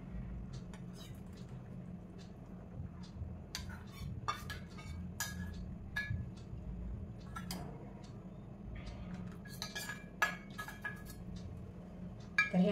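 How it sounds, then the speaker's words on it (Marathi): Lid lifted off a cooking pot of horse gram shingolya, then mixed flour stirred in, sharp metal clinks and scraping taps of utensil against pot, close and intermittent over a quiet hum. "आता झाकण काढून मिक्स पीठ हे ह्याच्यात मिक्स करायचं"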